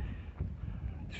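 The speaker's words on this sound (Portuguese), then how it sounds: "Desculpando o barulho do vento, bastante forte aqui o vento" Strong wind buffets the microphone beside a reservoir spillway, a continuous low rumbling roar with gusty surges throughout the short stretch.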